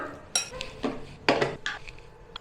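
A chicken tikka marinade of yogurt, mustard oil and spices being mixed in a bowl, heard as a handful of separate clinks and clatters of a spoon against the dish, close up with no talking.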